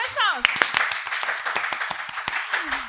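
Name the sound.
clapping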